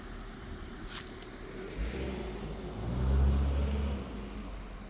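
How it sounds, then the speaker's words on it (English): A car passes along a road beside the old Erie Canal near Durhamville, a low engine rumble swelling as it draws near and fading away, over steady outdoor background noise. "A lot of traffic."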